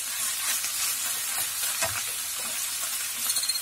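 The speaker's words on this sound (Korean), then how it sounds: "간장이 재료에 잘 배이도록 골고루 섞어줍니다." Fresh soybeans are stir-fried and tossed with soy sauce, producing a bright, close sizzle with scraping stir strokes and a few clattering knocks near the end, no talking.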